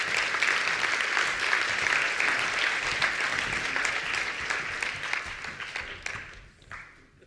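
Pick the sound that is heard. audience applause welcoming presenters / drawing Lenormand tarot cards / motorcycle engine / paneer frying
audience applause welcoming presenters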